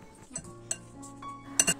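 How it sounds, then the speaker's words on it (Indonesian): A cornstarch mixture being stirred in a bowl gives a few light clinks of utensil against the dish, scattered and close, with quiet gaps between taps. "Ini diaduk-aduk sampai semuanya tercampur rata."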